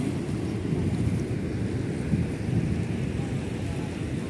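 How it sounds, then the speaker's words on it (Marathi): Water pours through the Jayakwadi dam's open gates in a heavy, continuous roar with deep rumbling, heard close and steady with wind noise on the microphone. "सध्या 18 दरवाज्यातून पाण्याचा विसर्ग सुरू आहे।"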